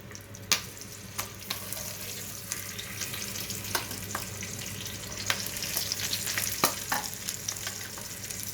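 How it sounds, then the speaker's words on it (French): Raw chicken sears in a pan with a soft, steady sizzle, broken by sharp pops and crackles and a few utensil scrapes, fairly quiet and without talking. "Donc là, voilà, on va commencer à le saisir."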